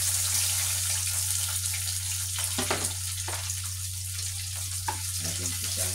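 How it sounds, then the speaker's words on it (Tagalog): Garlic and onion sautéing in a pan (kawali), giving a steady hiss of sizzling oil with a few scattered clinks and splashy bursts, over a low background hum. "Tapos ilagay ko na itong bawang."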